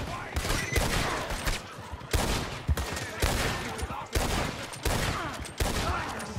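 Gunfire rings out in Red Dead Redemption 2 Online: a loud, rapid fusillade of shots in repeated bursts with brief pauses between volleys.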